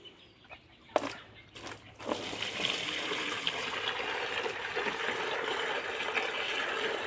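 A few knocks are followed by water gushing into a basin for the chickens' and ducks' pen on a rainy-season farm. The pour starts and keeps up as a steady rush, with occasional clucking from fowl nearby.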